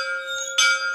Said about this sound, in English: we signify them coming in with the bell